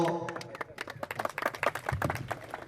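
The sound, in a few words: audience applause welcoming a speaker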